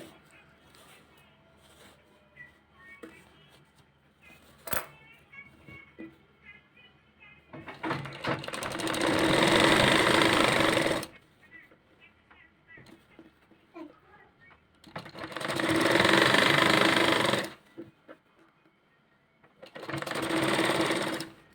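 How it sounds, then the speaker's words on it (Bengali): A sewing machine stitches elastic onto salwar fabric in three loud bursts of rapid whirring a few seconds long, separated by quieter pauses filled with fabric handling and faint background sounds. "আস্তে আস্তে সেলাই করে নিতে হবে"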